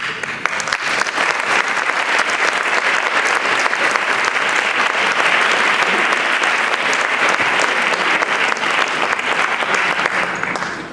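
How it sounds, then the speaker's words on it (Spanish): Audience applauding a speaker at a public talk, dense steady clapping from many hands that holds evenly throughout and tapers slightly at the end. "Ya terminamos con los aplausos a Jesús"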